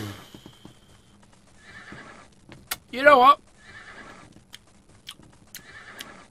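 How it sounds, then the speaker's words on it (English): In the Might and Magic VI video game, a horse gives one loud, brief whinny mid-clip, with soft, repeated hoof clopping around it and someone talking quietly in the background. "Horses."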